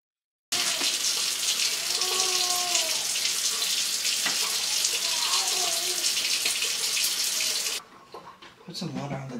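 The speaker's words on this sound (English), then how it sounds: "Put some water on the dirt." Water is poured onto the dirt of a houseplant being repotted, a steady close splashing and trickling stream that runs for several seconds and then stops abruptly, leaving faint rustling.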